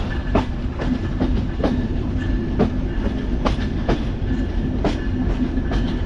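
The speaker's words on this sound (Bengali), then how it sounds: "এই গতিতে চলে রূপসা সীমান্ত এক্সপ্রেস গতি দেখুন" The Rupsha Simanta Express running at speed, heard from on board as a loud, continuous rumble with a regular clickety-clack of wheels over rail joints.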